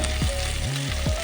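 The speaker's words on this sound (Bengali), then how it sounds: "এক চামচ লঙ্কার গুঁড়ো দিয়ে ভালো করে ভাজবো" Cauliflower frying in oil with turmeric and chili powder gives a loud, steady close-up sizzle alone, with a low electrical hum beneath and a brief dip in the middle.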